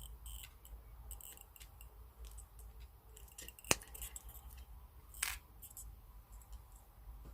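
Snipping the loose tail of weaving wire on a handmade doughnut pendant, heard as two sharp, faint clicks of the cutters against quiet room hiss, with a few small metallic ticks around them.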